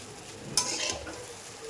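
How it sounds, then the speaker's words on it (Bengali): Yardlong beans, potato and fish roe frying in a pan, with a single short scrape of stirring over a quiet sizzle, brief and close. "এটা হচ্ছে বরবটি আলু আর মাছের ডিম দিয়ে ভাজা আর কি করছি"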